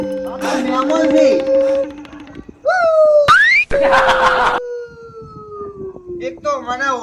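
A sleeping guest snores loudly indoors with a rising, wailing tone like a factory siren, in several long, swooping bursts broken by short gaps and comic boing-like effects.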